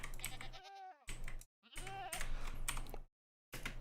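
Several wavering goat bleats from Minecraft sound in short bursts separated by brief silences, with keyboard typing clicks audible between and under them.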